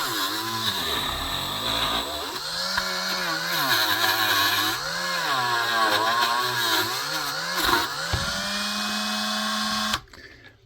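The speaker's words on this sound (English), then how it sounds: "No sense you just keep having you watch me just keep scrubbing this with that scouring wheel." A scouring wheel on a rotary tool scrubs a rough die-cast model casting, a loud steady whine whose pitch wavers as the load changes, running nonstop for about ten seconds before cutting off abruptly.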